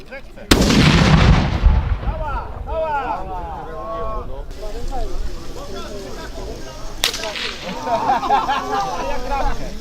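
A loud, sharp black powder cannon blast at a historical reenactment picnic opens, followed by a booming echo, then people talk; a second sharp bang comes later amid continued chatter.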